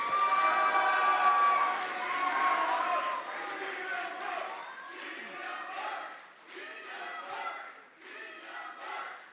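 An audience welcomes a candidate at a real estate agents' association election rally with loud clapping and cheering that swells, then thins into scattered bursts and fades.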